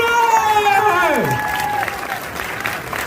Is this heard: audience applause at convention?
yes